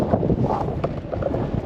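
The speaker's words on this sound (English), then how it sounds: "Very windy." Strong wind on an open hilltop near the Brown Knoll trig point, buffeting the microphone in a steady, loud, low rumble with gusty swells and no voices.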